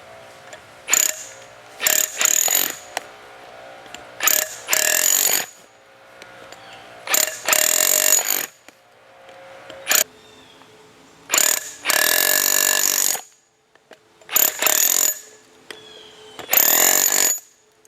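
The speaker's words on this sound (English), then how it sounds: "we'll see if we can chisel off some of the sides of this big pedestal here" A Milwaukee M18 Fuel SDS Max cordless rotary hammer, model 2717-20, chisels a concrete pedestal in repeated loud bursts, each lasting a second or two, separated by brief pauses.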